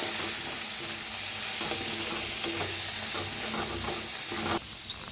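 Coriander powder, turmeric and red chili powder roasting in a pan for a Maharashtrian dingri vegetable dish, a steady close sizzle and frying hiss with light stirring scrapes, easing slightly near the end.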